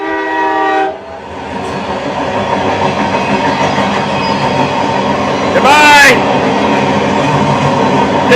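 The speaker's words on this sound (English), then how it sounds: "And then the train's going to take off." A train pulls away with a horn blast at the start, then a steady rumble of rail cars rolling along, punctuated by a brief high screech midway, heard amid ambient noise.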